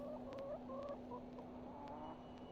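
A chicken in the adventure video game The Excavation of Hob's Barrow gives several soft, repeated clucks over a quiet, steady background hum.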